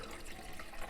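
Water pouring steadily into the reservoir of a coffee machine while dialing in a natural-process coffee, a continuous close splashing fill lasting about a second with no voices.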